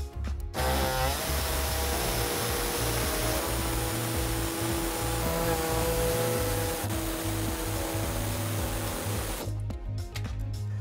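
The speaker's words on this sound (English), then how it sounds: "we're gonna use an air saw and we're gonna cut out this hole" An air saw cuts through the plastic underbody panel of a 2018 Toyota Sienna during a trailer hitch installation, a steady, loud, buzzing reciprocating drone that runs unbroken for about nine seconds before stopping.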